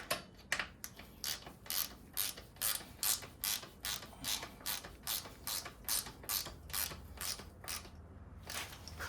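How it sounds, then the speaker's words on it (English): A ratchet wrench tightens the suspension bolts while fitting a TEC luggage rack to a Royal Enfield Interceptor 650, giving about twenty steady, close, crisp clicking strokes with no talk. "Then tight the bolts for suspension."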